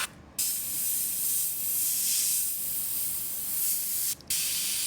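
An airbrush sprays paint onto a T-shirt for a graffiti design, making a close, steady hiss that stops briefly at the start and again near the end before resuming.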